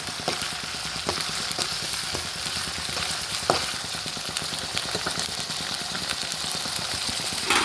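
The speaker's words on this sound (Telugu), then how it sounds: "దీంట్లో అల్లం వెల్లుల్లి పేస్ట్ వేసేద్దాం చూడండి ఇలా" Onions and ginger garlic paste frying in a pan for a chikkudu (broad bean) paneer curry, giving a steady, close sizzle with a few scrapes and knocks of a stirring spoon, and no talk.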